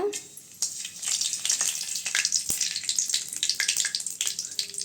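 Cinnamon and cloves hitting hot oil in a pan for wheat rava kichadi set off a loud, steady sizzle and crackle that swells and keeps bubbling up close, with no talking over it.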